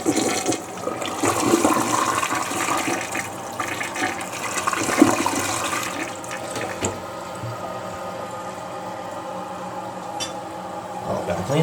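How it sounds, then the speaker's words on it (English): A Mansfield toilet flushes nearby, a loud gushing rush of water draining for several seconds, then settling into the quieter trickle and hiss of the tank refilling. "Just a quick flush."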